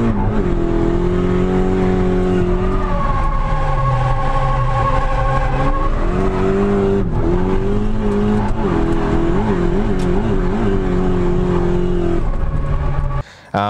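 A drifting car using the wheel-tracing technique holds a steady, loud engine drone with shifting revs and tire squeal, running continuously for the whole stretch before cutting off at the end.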